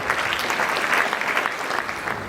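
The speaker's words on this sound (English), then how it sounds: "Can you please clap for him?" Pupils and staff at a school anti-bullying assembly clapping together, a close, steady burst of applause that holds evenly for a couple of seconds.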